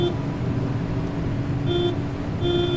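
A car horn in Pacific Drive sounds two short honks near the end over a steady engine drone, the second honk slightly longer than the first.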